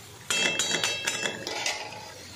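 A spoon scrapes and clinks in a pan as masala is stirred and sautéed. The strikes come in a steady series of close metallic taps over a constant sizzling hiss, with no speech.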